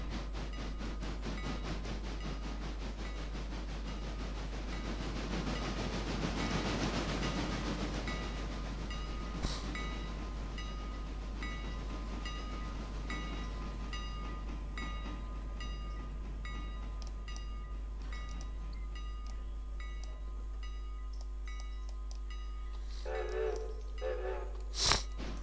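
A train moving two railroad cars in the railway game Railroader gives a steady low rumble and rolling rail noise, with faint clicks and a brief squeal near the end.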